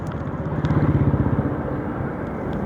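A Vespa VXL 125 scooter runs under a rider, its small engine giving a close, rhythmic throbbing putter that swells briefly before settling to a steady hum.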